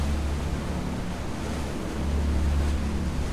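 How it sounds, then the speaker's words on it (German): A rescue ship's water cannon sprays in Schiff-Simulator: Die Seenotretter, a dense continuous hiss and wash of water that stays loud and steady with a deep rumble beneath. "Ich versuche mal ein bisschen weiter zu spritzen wieder."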